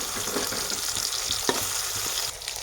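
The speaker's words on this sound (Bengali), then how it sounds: "তেলটা আমি চারদিকে ঘুরিয়ে দেবো, সব কটা বেগুন থেকে যেন তেলটা পাই।" Brinjal slices coated in spices fry in oil as it is swirled around the pan, making a close, steady sizzle with light scraping and a sharp clink partway through.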